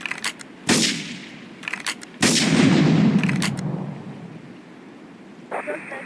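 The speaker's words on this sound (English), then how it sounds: "Investigate reported gunfire and explosions." Gunfire and explosions in the video game Grand Theft Auto 3 Remastered, a few sharp loud blasts with rumbling tails, the second one longest, followed by a brief electronic tone.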